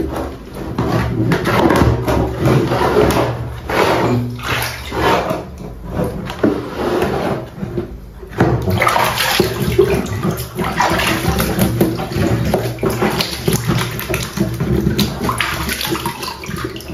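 Water sloshing and splashing steadily in a tub as a large Ondel-Ondel mask is scrubbed and washed, loud and close with continuous rinsing noise and brief handling knocks.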